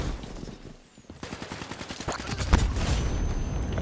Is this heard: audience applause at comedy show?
no